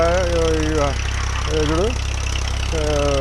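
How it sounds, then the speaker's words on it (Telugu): A motor hums steadily while a pump gurgles and sputters in surges, its pitch rising and falling as it draws air. "ఈ మోటార్ కూడా ఎయిర్ లాగుతుంది అప్పుడప్పుడు"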